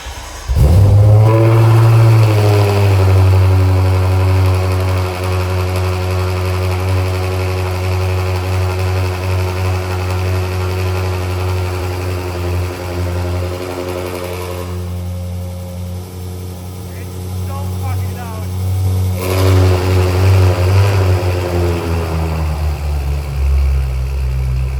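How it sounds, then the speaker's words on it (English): The twin turbo V8 of a BMW M5 F10 barks to life and holds a loud, deep, droning idle with a strong harmonic rumble. Its pitch drifts and swells a few times across the long stretch, heard up close. "enjoy the V8 twin turbo Symphony"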